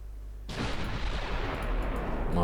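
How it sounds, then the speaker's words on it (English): Battleship guns fire in the naval strategy game Ultimate Admiral Dreadnoughts during a 1959 battle for Southeast Asia, with a sudden heavy blast followed by a sustained, booming rumble. "My battleships are firing."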